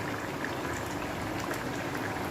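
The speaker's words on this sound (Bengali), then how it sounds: "মিক্স ডালটা ফুটে উঠেছে" Mixed dal lentils boil in a pot on the stove, a steady, continuous bubbling and simmering hiss held at an even level throughout, with no voices.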